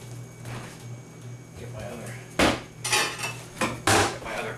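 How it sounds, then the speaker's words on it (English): A metal cooling rack is set down in a home kitchen while ginger snap cookies bake, giving a few sharp clattering metallic knocks in quick succession close to the microphone, after a stretch of low room hum. "Get my other cooling rack here."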